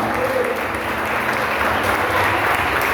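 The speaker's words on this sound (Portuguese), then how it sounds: "Aplauda o Senhor mais forte, irmão!" A church congregation applauds during a communion service, a steady wash of many hands clapping at an even, unbroken level throughout, with a faint murmur of voices underneath.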